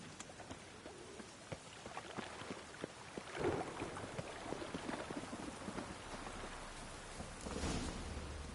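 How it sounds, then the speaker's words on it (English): Steady rain patters across the ground in the Witcher 3 video game, with a soft roll of thunder rising midway and another low rumble near the end, all fairly faint and continuous. "And it's raining."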